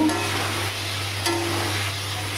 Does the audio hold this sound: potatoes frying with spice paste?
yes